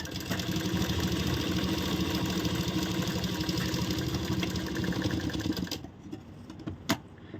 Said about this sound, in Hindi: अब इसका जो बॉटम है ब्लाउज का हमारे, हम वहाँ सिलाई लगाएंगे